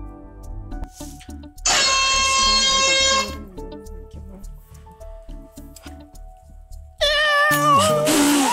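A cat lets out two loud, drawn-out meows close by, separated by a quieter stretch with soft tapping and faint voices.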